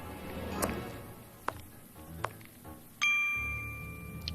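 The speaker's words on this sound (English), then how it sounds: "Was that bell again?" In the Testament of Sherlock Holmes game a bell rings once, a bright sustained ding near the end, preceded by a few soft metallic clinks and taps.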